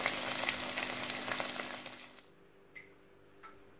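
Saag being tempered with a tadka in a hot pan: a loud, dense sizzle and crackle of frying that fades after two seconds into quiet, with a couple of faint clinks of utensils.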